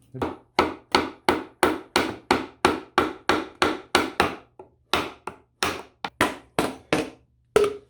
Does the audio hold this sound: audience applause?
no